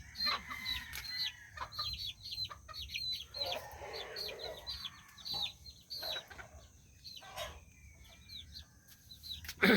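Chickens cluck repeatedly in short bursts close by, with a tethered stag rooster's crow rising briefly among the quieter farmyard clucking.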